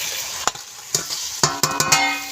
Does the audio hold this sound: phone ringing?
no